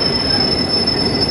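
A London Underground train's wheels squeal on the track, a loud, continuous high-pitched metallic screech layered over steady rumbling rail noise, with no voices heard.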